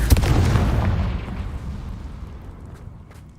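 A Confringo fire spell explodes in Hogwarts Legacy with one loud, booming burst. Its low rumble fades out slowly over a few seconds, and nothing else is heard.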